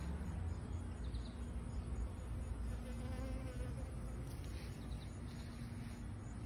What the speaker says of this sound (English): These are all sweat bees, flies, ladybugs. Look at these honeybees.